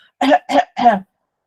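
A person gives a demonstration cough: three short, forceful coughs in quick succession, close and clear, with no talking around them.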